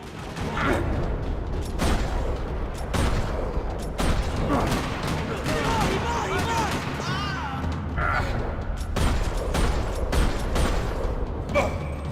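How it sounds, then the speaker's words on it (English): Rapid bursts of gunfire crackle repeatedly in a parking lot in the video game Max Payne 3, over a dense, loud background of game effects and rumbling, with brief gaps between volleys. "Another parking lot rattling with gunfire."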